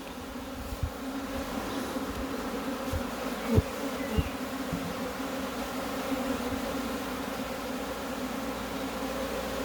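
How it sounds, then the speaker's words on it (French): A dense, steady hum of many honeybees buzzing close by at an open hive, continuous throughout, with a few soft knocks and thumps underneath. "on y va doucement pour le bien-être des abeilles"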